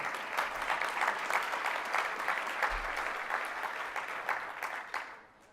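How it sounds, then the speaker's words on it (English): Audience applause at a university keynote on Indigenous strategy, a dense sustained wash of many hands clapping that fills the room steadily before tapering off at the end. "That's worth clapping for."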